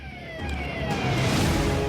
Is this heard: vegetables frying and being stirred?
no